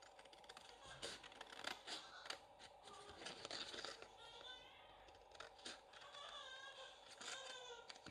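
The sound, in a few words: large scissors cutting cardboard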